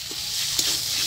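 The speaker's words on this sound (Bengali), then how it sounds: "এখন আমি এরকম করে মিক্স করে নিব" Fried taro stems with dried fish and a splash of lemon juice are stirred in a hot pan, a close, steady sizzle broken by a couple of soft scraping taps.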